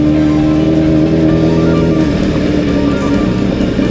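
A car engine drones loudly from inside the cabin while driving for a long stretch in first gear on a detour during a road trip to a lake, a dense steady hum with no talking.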